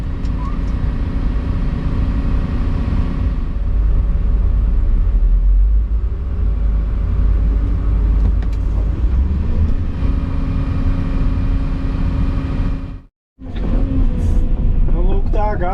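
A motor vehicle drives with a loud, steady low engine rumble close by. The rumble continues almost without a break, cutting out briefly near the end before resuming.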